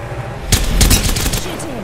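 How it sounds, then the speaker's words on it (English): Gunfire in the Apex Legends video game, a short loud burst of rapid shots starting abruptly after a quieter moment and fading within about a second. "Shots fired, and they're hitting me."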